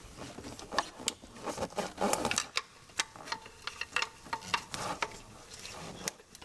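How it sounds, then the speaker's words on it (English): Wrench working loose the bottom bolt on a Mercedes power steering pump setup: a close, irregular run of sharp metallic clicks and ticks with brief scrapes, steady throughout with no talk. "we're beginning to loosen up the bottom bolt"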